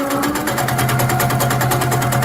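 A sewing machine stitches at a fast, even rhythm while doodle quilting straight and curved designs, a close, steady mechanical chatter with no voices.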